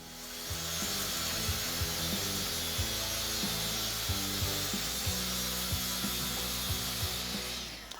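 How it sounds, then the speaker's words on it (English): A saw with a 42-tooth fine blade rips a sheet of plywood, making a steady close grinding rasp with repeated low knocks and clunks as the cut proceeds, alone without voices. "The first step in breaking down sheet goods is always creating a good clean edge to reference all your cuts off of."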